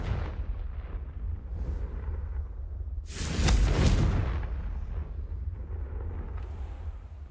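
A Confringo spell blast from the Hogwarts Legacy video game bursts midway as a single loud, booming explosion, standing out from a low rumbling game soundscape before fading back down.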